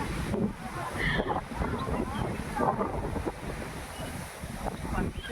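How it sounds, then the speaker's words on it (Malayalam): Strong wind sweeps across the hilltop at Panchalimedu, a steady broadband roar with gusts buffeting the microphone that swell and ease throughout. "നല്ല കാറ്റുണ്ടല്ലോ"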